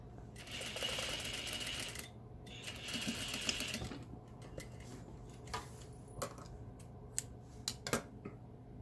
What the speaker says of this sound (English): I just finished sewing that French seam